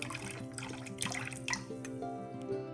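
Liquid smoke is poured into a pork chop marinade, a soft splashing trickle with light drips over a faint tonal background.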